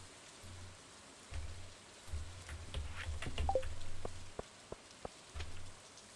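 Steady rain falls in the farming video game Stardew Valley, a soft continuous hiss with low pulsing swells and a few sharp ticks layered on top.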